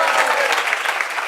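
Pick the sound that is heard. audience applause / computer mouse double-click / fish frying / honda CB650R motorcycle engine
audience applause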